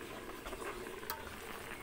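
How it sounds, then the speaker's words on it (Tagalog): Soft, steady bubbling and simmering of pinangat na paksiw in a pot, faint and continuous with no voices. "Kumukulo na po yung paksiw natin, pinangat."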